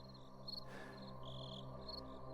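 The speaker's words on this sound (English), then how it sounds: "All Vince could hear were the crickets and his own breathing." Crickets chirp steadily in a quiet night setting, a faint continuous trill with bands of higher pulsing chirps coming and going, no voices present.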